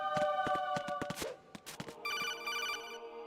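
Metal Gear Solid 2: Sons of Liberty sounds an incoming codec call, a series of sharp electronic ringing chirps. They are followed by a steadier, higher repeating tone, moderately loud, with no talk over them.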